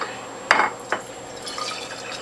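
Carrot, collard greens, turmeric, ginger and garlic juice poured into a container, with a couple of sharp splashes followed by softer trickling and dripping close by.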